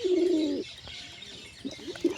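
A pigeon nesting beside its chicks gives a soft coo. A low, rolling call comes first, and a couple of shorter coos follow after a pause. It is close and fairly quiet, with no voices.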